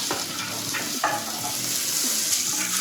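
Garlic sautés in a pan for mushroom risotto, giving a continuous frying sizzle with soft scraping and stirring movements, close up and with no voices.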